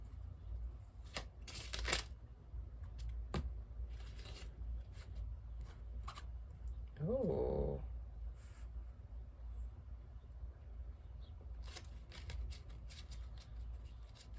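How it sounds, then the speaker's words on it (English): Soft, intermittent riffling of tarot cards being shuffled nearby, quiet bursts spread across a calm room, with a brief short exclamation midway. "Being told to keep shuffling."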